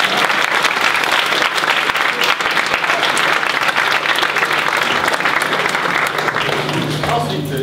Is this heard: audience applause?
yes